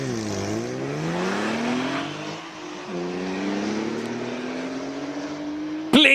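A Porsche sports car at a Cape Town hill-climb speed event, its engine roaring loudly and sweeping up and down through the revs as it accelerates and shifts, with a brief sharp burst near the end.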